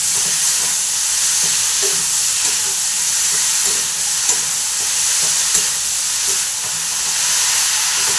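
Fish kalia masala sautéing in a pan: a loud, continuous hiss of frying with soft scraping stirs scattered through it, close and steady, no voices.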